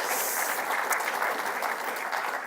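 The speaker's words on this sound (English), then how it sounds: "a big round of applause for our lovely assistant" Applause from a seminar audience for the presenter's assistant, a dense, steady clatter of many hands that fills the whole stretch without a break.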